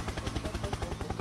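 Rapid rhythmic thumping of helicopter rotor blades chops steadily, fairly close and loud, with no speech.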